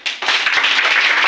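A classroom full of students applauds a classmate with dense, steady clapping that stays loud and continuous throughout, with no talking over it.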